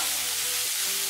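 A paneer and sauce mixture fries in a pan while being stirred, giving a steady close sizzle with a brief scrape of the spoon.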